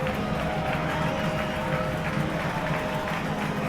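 A baseball crowd at a Washington Wild Things game roars and cheers after a home run, a dense, sustained wash of voices and clapping heard from within the stands.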